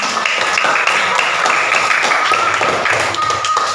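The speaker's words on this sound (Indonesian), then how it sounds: "Oke, tepuk tangan dulu" A class of students claps hands together in a steady, dense patter that runs throughout, fairly loud and close, with faint voices underneath.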